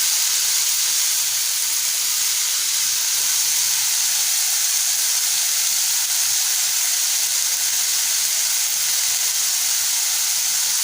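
Sprouted lima beans sautéing in oil in a pan: a loud, steady, unbroken sizzling hiss that holds evenly throughout, with no talk.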